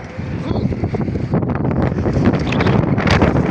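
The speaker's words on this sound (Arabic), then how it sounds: "صوت الهوا جامد جدا." Strong wind roars and buffets the microphone in loud, continuous gusts, with rustling underneath.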